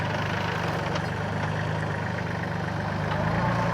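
A tractor fitted with a front loader idles steadily on a rural homestead in Portugal, a low continuous engine rumble at moderate distance with no talking.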